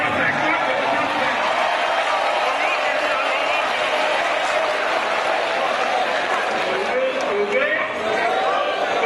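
A live audience applauds steadily for the full stretch, a dense wash of clapping and crowd noise with voices mixed in underneath.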